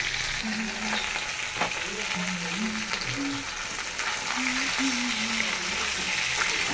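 Rohu fish head frying in a pan gives a steady broadband sizzle throughout, joined by low murmuring voices in the background.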